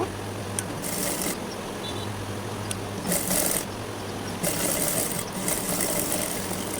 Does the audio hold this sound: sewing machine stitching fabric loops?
yes